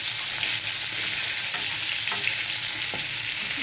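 Pieces of pointed gourd frying in hot oil with a little turmeric, giving a constant, loud close sizzle with faint occasional clicks of a utensil, no voices.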